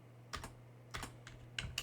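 A command being typed on a computer keyboard in a Linux tutorial: short clusters of crisp key clicks in three quick bursts, close and fairly quiet over a steady low electrical hum.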